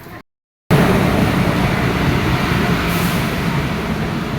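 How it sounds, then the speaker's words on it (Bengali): A train pulls into a station on the Tarakeswar to Tarapith route. After a brief moment of silence comes a loud, close, steady rumble of rolling wheels and carriages that holds without a break. "ট্রেন ঢুকে গেছে স্টেশনে"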